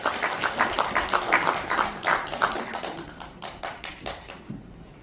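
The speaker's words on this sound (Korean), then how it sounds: "큰 박수로 맞이해 주시기 바랍니다." Audience applause welcoming a speaker onto stage at a Korean talk event, a moderate patter of clapping in uneven bursts that gradually thins and fades toward the end.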